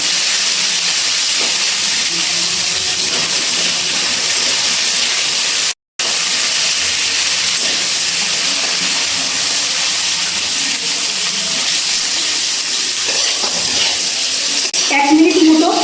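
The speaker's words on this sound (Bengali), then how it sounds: "এবার এই তেলের মধ্যে সজনে ডাঁটাগুলো খুব সামান্য অল্প একটু ভেজে নেব" Drumstick (sajne data) stems fry in hot oil in a kadai, a steady loud sizzling hiss that continues almost unbroken.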